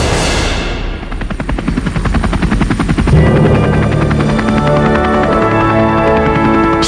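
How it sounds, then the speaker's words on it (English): A helicopter close by and loud, its rotor chopping in a fast steady pulse over a constant engine whine, building in strength after the first few seconds and holding steady to the end. "Sound of a helicopter will trigger it."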